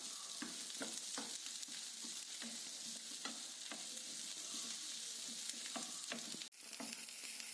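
Ingredients sauté with salt in a pan for moringa leaf chutney: a continuous close frying hiss broken by regular clicks and scrapes of a stirring spoon.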